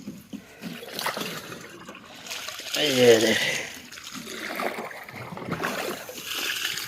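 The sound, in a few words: irrigation water flowing slowly from canal into cotton field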